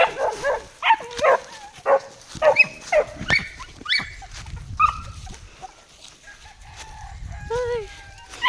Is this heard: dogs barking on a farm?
yes